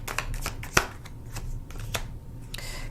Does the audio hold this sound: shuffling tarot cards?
yes